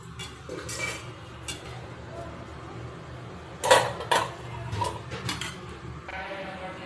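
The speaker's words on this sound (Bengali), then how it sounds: "এবার ঝোলটা ঢাকা দিয়ে দেবো" A metal lid set onto a pot of simmering hilsa fish curry with eggplant in a home kitchen, heard as a pair of sharp clinks close by over a low steady background hum.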